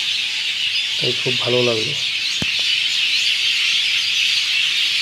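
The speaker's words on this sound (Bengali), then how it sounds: "পাখির কিচিরমিচির শব্দ" Birds chirp on the Brahmaputra river bank in a dense, continuous high chorus that fills the air throughout, with a person speaking briefly early on.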